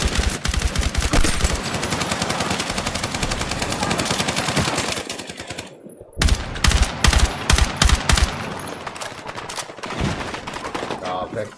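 Rapid automatic weapon fire in the video game Battlefield 6, loud sustained bursts with brief pauses, accompanied by scattered player voices and in-game announcements.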